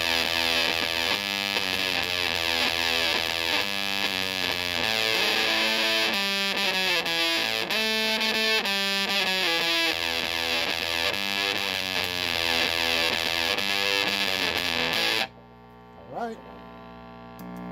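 An Alameda Angry Hornet fuzz runs a distorted electric guitar on the treble pickup position, playing a long melodic passage with buzzy sustained notes. The sound stops abruptly near the end, leaving a short quiet tail.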